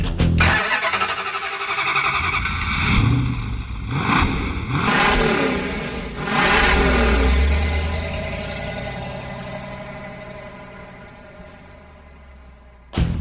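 A 707-horsepower supercharged Hellcat engine in a 1970 Plymouth Superbird converted from a Road Runner fires up and revs in several loud surges, then settles and fades to a lower idle before a sharp blip at the end.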